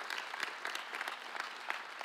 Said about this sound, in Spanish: hay que aplaudirle, claro que sí